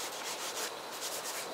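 Pastel being rubbed into paper outdoors during plein air painting of rhododendrons in a wood, a soft continuous scraping hiss with gentle repeated strokes, close and steady.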